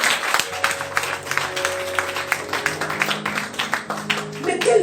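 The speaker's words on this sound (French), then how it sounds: "on acclame très fort pour Jésus" A church congregation applauds in a lively burst of rapid clapping with irregular peaks, close and moderately loud, mixed with voices and cheers from the crowd.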